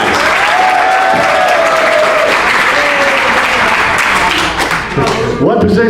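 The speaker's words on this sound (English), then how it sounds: "No, wait, we're going to applaud you." Loud, continuous applause and some cheering from a crowd honouring a school football player, with voices calling out over the clapping.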